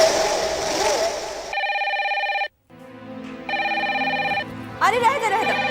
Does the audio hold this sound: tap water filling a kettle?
no